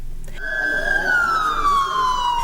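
A loud electronic siren from emergency vehicles at a fire drill with fire engines and ambulances, one wailing tone that jumps up and then slowly glides down, sounding fairly close over a low street background.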